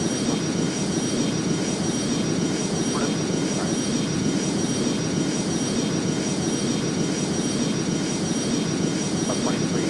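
A KLM Boeing 737 in the video game Airline Commander gives off a continuous, loud jet roar during its takeoff run, a dense steady rush that holds evenly throughout.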